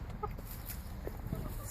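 Pet chickens cluck softly nearby in a backyard while eating dropped seed, a few short scattered clucks over a low background hum, with a person talking faintly at times.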